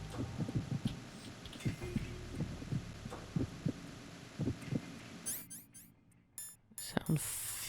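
A slow, muffled heartbeat thumps at a steady rhythm in the Metal Gear Solid 2 stealth game, soft low pulses beating over a faint hum before dropping away near the end amid brief bright static.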